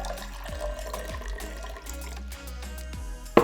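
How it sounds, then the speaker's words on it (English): Cool water pours into a cup for iced tea, a steady close trickle with bright splashy ringing tones as the cup fills, ending in a short louder knock. "I'm gonna add about 4 to 6 ounces of cool water."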